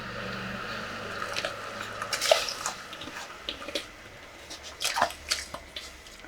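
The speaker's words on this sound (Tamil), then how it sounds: "இனி வந்து நம்ம சாமை அரிசியை சேர்த்துக்கலாம்." Little millet (samai) rice being added to a pot of boiling water on a stove, with soft bubbling, splashing and dripping and a few sharper clinks and pours, close and moderately quiet.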